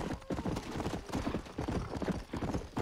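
Horse hooves clip-clop in the video game Red Dead Redemption, a fast, steady rhythm of close, loud hoofbeats that continues without a break.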